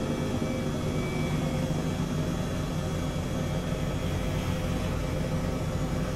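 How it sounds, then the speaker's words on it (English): An Airbus H135 helicopter flies in Microsoft Flight Simulator 2020, its cabin engine and rotor noise a steady, loud, broadband roar that never changes and has no voices over it. "I'm flying a helicopter"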